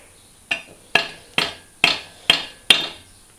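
Six evenly spaced hammer taps drive a part into a rotary engine, ringing out with a bright metallic clink, each one close and crisp, decaying quickly before the next strike.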